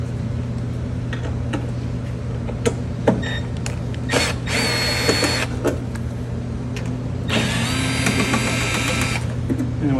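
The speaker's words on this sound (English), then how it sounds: "We're going to remove the 14 screws in the blue housing." A power drill backing screws out of the blue housing of an ALFe 3.5 induction heating tool, two short whirring bursts over a constant low hum, with scattered clicks and clatter between them.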